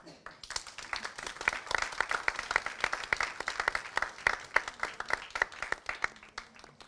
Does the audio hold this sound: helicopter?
no